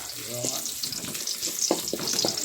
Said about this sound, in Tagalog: dito lang muna natin ang bagyang sibuyas para lumabas yung aroma